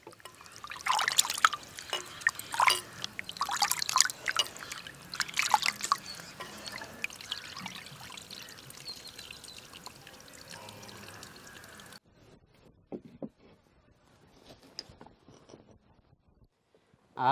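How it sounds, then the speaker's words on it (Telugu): Chicken liver is washed under running water, with splashing pours and trickles for about twelve seconds, then quieter drips and faint handling. "ఇప్పుడు లివర్ని శుభ్రంగా కడుక్కోవాలి."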